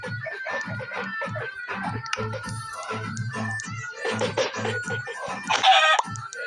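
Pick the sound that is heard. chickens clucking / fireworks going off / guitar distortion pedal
chickens clucking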